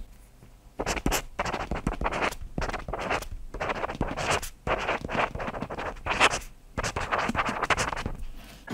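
A stylus writes on a screen protector fitted to a Boox Note Air e-reader, giving close, scratchy bursts of strokes in irregular clusters with short pauses between them.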